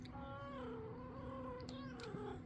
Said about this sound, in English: And we got a cat down here.